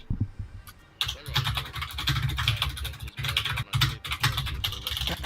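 Rapid, steady typing on a computer keyboard, with dense clattering keystrokes close up that carry on throughout with only brief pauses.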